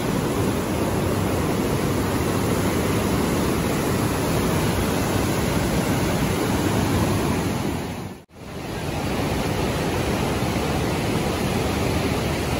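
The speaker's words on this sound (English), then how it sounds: "waves in the river with so much thunder, so much pressure, so much flow" Roaring whitewater rapids on the river at the Niagara Falls Whitewater Walk make a dense, loud, continuous rushing roar, briefly cut off by a momentary dropout before resuming just as strongly.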